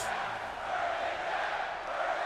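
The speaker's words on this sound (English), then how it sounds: "Crowd here tonight with burn it down chants, man." A wrestling arena crowd in WWE 2K22 chants "burn it down" in a dense, continuous roar that stays loud and steady throughout with no single voice standing out.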